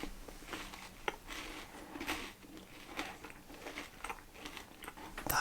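Someone chews a crunchy, chewy Lion chocolate bar up close, quiet repeated crunches and soft wet chewing in an uneven rhythm.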